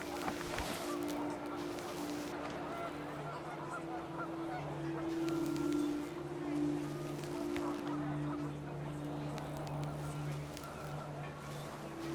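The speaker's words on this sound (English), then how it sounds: "panicked geese appeared and quickly went" Flock of geese honking in the video game What Remains of Edith Finch, a steady stream of calls over a continuous windy, low background hum throughout.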